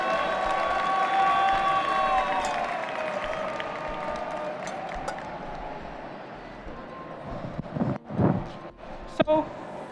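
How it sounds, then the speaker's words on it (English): Audience at a barista championship applauding and cheering, a broad wash of clapping that fades toward the end while voices and a few sharp knocks take over. "another big round of applause for Aaron's milk course"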